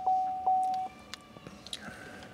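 Two short, high electronic beeps chime close by from a car's door-open warning, followed by faint clicks and rustling.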